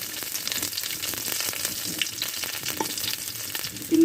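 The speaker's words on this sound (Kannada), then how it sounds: "ಇನ್ನು ಸ್ವಲ್ಪ ಅದು ಫ್ರೈ ಆಗಬೇಕು. ಚಂದ ಫ್ರೈ ಆಗುವಾಗೆ ಬಿಸಿ ಮಾಡುವ." Dried fish frying in a hot pan, giving a steady crackling sizzle with occasional stirring scrapes throughout, close and fairly loud with no voices.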